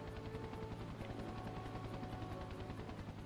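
Helicopter in the Spider-Man 3 video game, a steady rapid rotor chop pulsing evenly throughout at moderate volume, with no talk over it.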